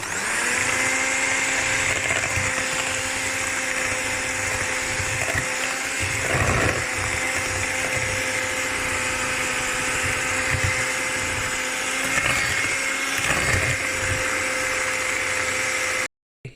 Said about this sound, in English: It's been mixed for about 4 minutes with a beater.